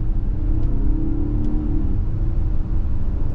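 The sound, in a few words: 2024 Nissan Pathfinder SL V6 engine accelerating on road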